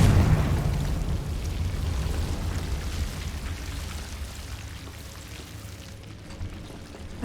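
A Confringo spell explodes in Hogwarts Legacy with a loud, rumbling burst at the start that decays into a fading crackle over several seconds, with no one speaking.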